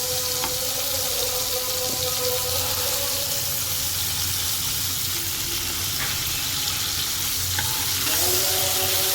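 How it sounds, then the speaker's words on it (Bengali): Chopped onion and tomato with kalonji being stirred in a pan, a constant close hiss of frying under scattered clinks and scrapes of a spoon against the metal, with no voices. "পেঁয়াজটাকে বেশ ভালো করে টমেটোর সঙ্গে কালো জিরে দিয়ে নাড়াচাড়া করে নিচ্ছি"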